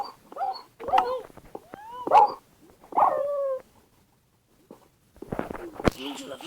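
A dog in the Minecraft video game barks and whimpers in short, clipped bursts scattered across the moment, with a few brief gaps, some footsteps and a voice talking in between.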